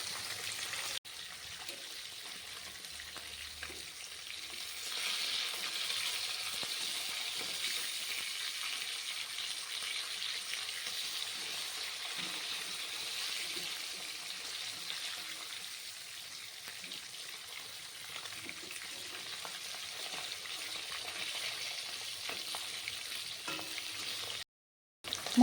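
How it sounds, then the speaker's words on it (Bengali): Katla fish pieces frying crisply in hot oil in a Bengali kitchen, giving a steady, continuous hiss and sizzle that runs unbroken at an even level with no voices. "মাছটা আমি একটু কড়া করে ভাজবো।"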